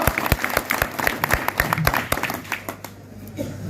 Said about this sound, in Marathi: जरा जोरदार टाळी वाजवा